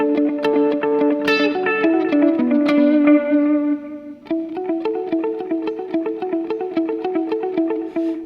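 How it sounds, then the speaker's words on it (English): Electric guitar notes ringing out with rhythmic dotted-eighth delay repeats and a wash of reverb from a pedalboard, a sustained chord fading before a steadier repeating pattern picks up. "I love playing with dotted eighth, so here's a bit of reverb"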